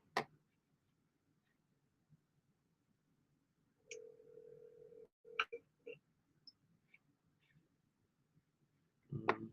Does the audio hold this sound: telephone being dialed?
yes